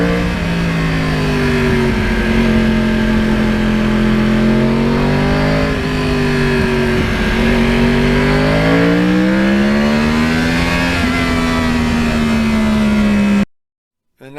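A Yamaha R1 crossplane sport bike revs continuously while riding, its engine note rising and falling through gear changes with steady wind roar, loud and close throughout before cutting out at the end.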